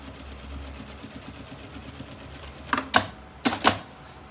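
A sewing machine stitches a seam on a small thermal bag, a fast rhythmic mechanical whir running steadily, then two short sharper bursts of stitching near the end.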